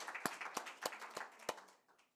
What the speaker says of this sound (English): let's give Jing a clap first of all.